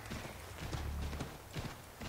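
Horse hooves clip-clopping along a road in Assassin's Creed III, a continuous brisk run of hoofbeats at moderate volume with no talk over them.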